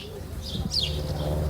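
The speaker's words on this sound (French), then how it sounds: "qui accueille notre reporter Gilles avec le chant des oiseaux" Birds call briefly outdoors, a short high chirp and a soft coo rising over a low steady background hum, heard for only a moment.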